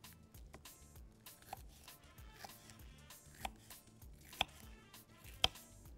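A knife chops green chili pepper on a board in a few sparse, sharp taps spread over several seconds, quiet overall with nobody speaking.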